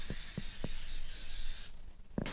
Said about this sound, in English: Spray the bottom lightly.